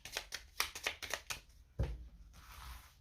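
Tarot cards are shuffled with several quick riffling flutters, then a soft thump as cards are set down and drawn, close and fairly quiet.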